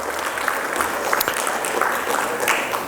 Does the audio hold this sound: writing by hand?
no